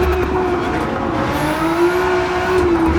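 A modded Nissan GT-R racing sim car on the Nürburgring drones loudly and steadily with a sustained engine tone, its pitch sagging slightly as it brakes, and faint tire noise throughout.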